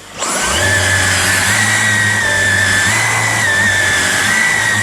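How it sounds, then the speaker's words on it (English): A vacuum-driven upholstery cleaning tool with a spinning turbine brush, used while cleaning a 1967 Ford Country Sedan, starts up and runs as a loud steady whine and hum with a slightly wavering pitch. "It seems to have a little vacuum driven motor in there which turns this guy quite well."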